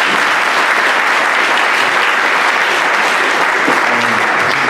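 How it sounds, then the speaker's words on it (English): An audience at a spring jazz concert gives the band a loud, close round of applause, thick continuous clapping with a few faint voices and a brief tonal murmur near the end. "Let's give them a round of applause."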